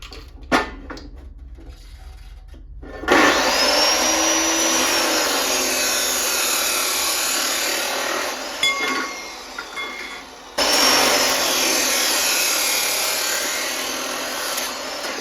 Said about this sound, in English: But I got the chop saw out. We're gonna cut some legs, cut the crossbar